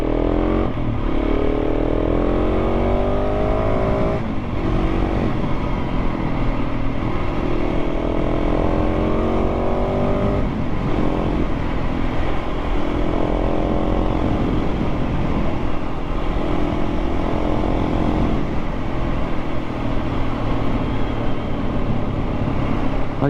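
A 2024 KTM 690 SMC-R motorcycle rides over rough, potholed back roads, its single-cylinder engine droning loud and close throughout with repeated rising and falling pitch as the rider works the throttle.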